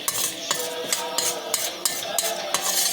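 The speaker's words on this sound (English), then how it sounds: "We put little coconut oil and fry the urad dal." Split urad dal frying in a little coconut oil, with a soft sizzle under steady stirring and a metal spoon clicking against the pan roughly twice a second.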